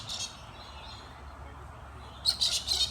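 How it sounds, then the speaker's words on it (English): Wild birds chirp at a garden feeder at feeding time, with faint twittering at first and then a brighter cluster of tweets near the end over quiet outdoor background. "The birds at feeding time."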